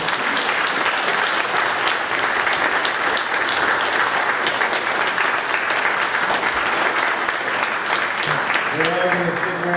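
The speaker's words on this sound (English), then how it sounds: "let's give a round of applause to the two candidates" An audience gives a sustained round of applause for two election candidates at a local forum, loud continuous clapping throughout, with a voice beginning to speak over it at the close.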